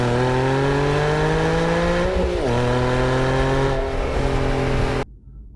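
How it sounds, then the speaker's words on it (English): A 2007 Aston Martin V8 Vantage with an upgraded exhaust and tune revs loudly and steadily, rising and dipping in pitch in a rich V8 growl before cutting off abruptly near the end. "I do like the aggressive nature of the V8, especially in this particular one with the updated and upgraded exhaust and tune"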